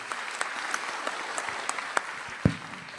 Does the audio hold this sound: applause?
yes